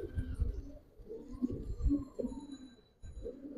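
Several young Giribaz pigeons, including khaki hens, coo in a steady, low, burbling drone, with brief pulses, light rustling and a short drop near the end.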